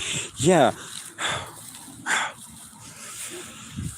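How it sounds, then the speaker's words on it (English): A dog barks from inside a building with a few sharp, spaced barks and yelps, heard between stretches of a person talking nearby. "That's his dog in there barking."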